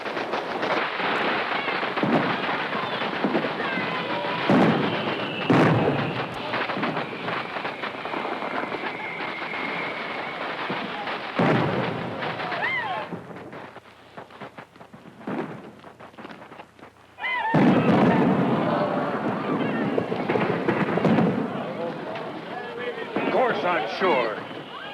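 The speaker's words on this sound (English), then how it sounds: "Hey, the fireworks are gonna start." Film sound effect of fireworks exploding at a Wild West town celebration: repeated loud bangs and crackling bursts over a dense rumbling wash, briefly thinning midway before erupting again, with speech mixed in.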